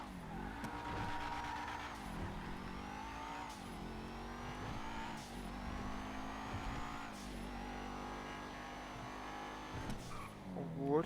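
A 2015 BMW F82 M4 engine drones steadily while driving, with rising and falling revs across several gear changes; people talk and exclaim over the continuous engine note.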